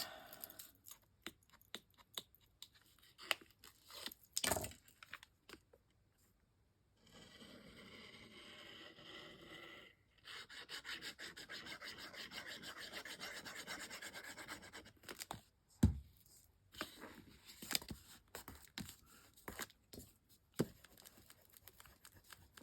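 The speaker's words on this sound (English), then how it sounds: "give it a good burnish. And I'm going to take my bone folder across the top there" A bone folder burnishes paper on a craft sewing box, making quiet rubbing and scraping strokes in short bursts and a few longer sweeps, with occasional sharper taps, close up and soft.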